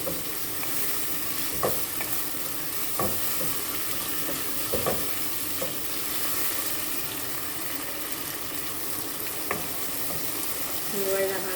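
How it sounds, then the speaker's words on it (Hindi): Tomatoes frying in a pan with already-browned garlic and ginger, a steady sizzle with stirring clatters and occasional sharp scrapes of the spoon, close and continuous without voices. "अब हम इसमें अपने टमाटर डालेंगे।"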